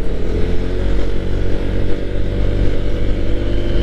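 A Honda ADV 160 scooter engine pulls uphill at about 40 km/h, giving a steady, loud, close mid-range drone with a throttled hum that never lets up.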